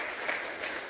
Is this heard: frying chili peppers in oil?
no